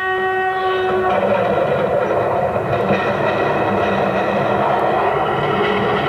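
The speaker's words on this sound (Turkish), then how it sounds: "Tren geliyor." A train horn sounds at the start, then a loud, steady rumble of a train going by continues without pause.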